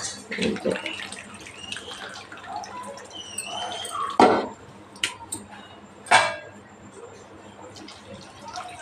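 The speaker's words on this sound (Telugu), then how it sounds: "వాటర్ వేసుకుందామండి" Water splashes and drips into a pot of okra tamarind curry in short, uneven bursts, close up, over a low background hum.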